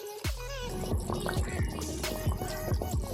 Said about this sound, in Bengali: এবার কিছু সময় এটাকে ফুটিয়ে নেব